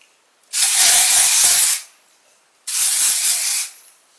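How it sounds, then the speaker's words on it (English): Dry shampoo sprayed from an aerosol can onto straightened hair in two loud, steady hissing bursts, the first about a second long and the second slightly shorter, with a brief pause between them. "dry shampoo."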